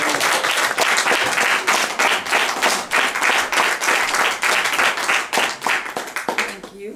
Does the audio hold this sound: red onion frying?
no